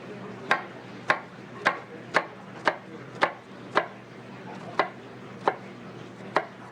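A knife chops red onion on a board for a marinated onion-and-cilantro mojo sauce: about a dozen crisp, evenly spaced strokes, close and clear, alone over a quiet background.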